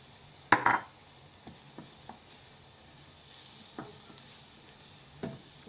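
Onion and garlic sizzle faintly in a pan while being stirred, with a sharp clatter of utensil against pan near the start and a few soft scrapes and taps afterward.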